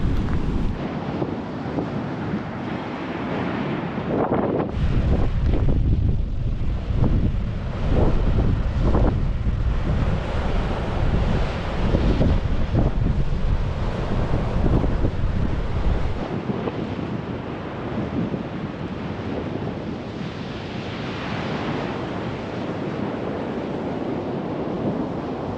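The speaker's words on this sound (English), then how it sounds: "I come out in any type of weather to the beach" Strong wind buffets the microphone on a beach in the Outer Banks, with loud, continuous surf and breaking waves rolling in throughout; the roar swells and eases but never drops away.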